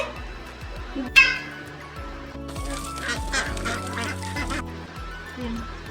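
A duck quacks in a series of loud, nasal honking calls repeating at close range, while a voice talks alongside.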